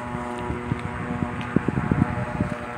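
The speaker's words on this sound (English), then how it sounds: "there's airplanes and stuff going by" An airplane passes near an airport beside a busy street by an abandoned truck stop, a steady droning hum with a low rumble beneath, fairly loud and continuous, with no talking.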